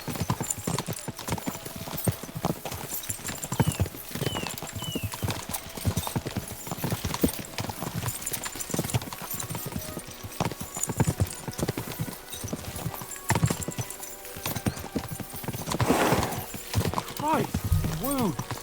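Horses' hooves clip-clop at a fast pace in the medieval game Kingdom Come: Deliverance 2, steady through the clip with an occasional whinny, while voices speak over the riding.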